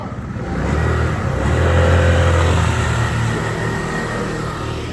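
Motorbike engine revving and passing on a downtown street, a loud continuous drone that swells to a peak around the middle and then eases off slightly, with no talking.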